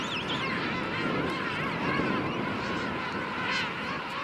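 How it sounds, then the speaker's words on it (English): Penguins calling at sunrise on South Georgia Island, a dense chorus of overlapping honking, wavering cries that fill the air steadily from a large colony. "I keep trying to get audio of those of the birds making their joyous calls in the morning."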